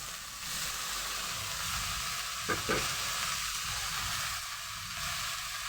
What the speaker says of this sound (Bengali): দেখুন ভাজাটা হয়ে গেছে শাকটা দিয়ে দিচ্ছি